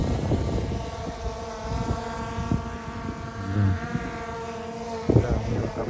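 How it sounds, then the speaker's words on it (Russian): A drone buzzes steadily overhead outdoors among rapeseed fields and mountains, a sustained whine with wavering harmonics and some wind noise, while people talk faintly. "Дрон жужжит, видите?"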